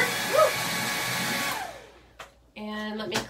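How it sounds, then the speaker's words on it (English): Hair dryer blowing steadily on a painted dollar-store garden pot for about a second and a half, then cutting off, with a short knock and a second, tonal blast of the dryer starting up near the end. "Okay, so let me hit this with the blow dryer."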